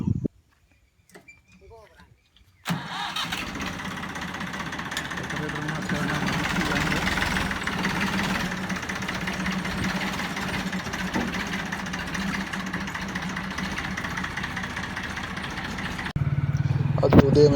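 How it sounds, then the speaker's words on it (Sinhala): After a few quiet seconds with faint sounds, a farm tractor's engine abruptly starts and settles into a steady, close, rumbling idle that carries on to the end, while people talk over it. "එයා ගිහිල්ලා ට්‍රැක්ටරේ ඉන්නේ. මම යනකොට එයා ට්‍රැක්ටරේ ස්ටාර්ට් කරනවා."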